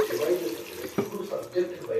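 Water poured during cooking, a steady running splash close by with a brief knock near the middle, while someone talks over it.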